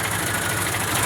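A farm tractor idles up close, a loud, steady low engine rumble with an even pulsing throb throughout.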